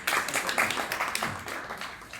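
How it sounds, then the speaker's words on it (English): Audience at a brand anniversary event in Singapore clapping, a dense burst of applause from a crowd that stays fairly even across a couple of seconds. "Round of applause, please, ladies and gentlemen."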